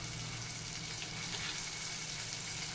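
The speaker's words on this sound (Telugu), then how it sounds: "ఉప్పు వేసి వేగించాలి బీన్స్ చాలా త్వరగా వేగిపోతాయండి" Potatoes and beans fry in a pan with salt and turmeric, a steady close sizzle and crackle throughout with no talking.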